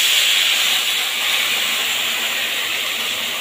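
Steam hisses loudly and steadily as halved tomato pieces and a little water go into a pan of frying potatoes. The bright, even hiss is heard alone, without talking.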